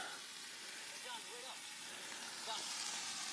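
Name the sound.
rice cooking on a camp stove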